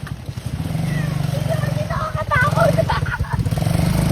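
An ATV's engine runs with a throbbing, pulsing putter, loud and close and steady, while a person talks over it.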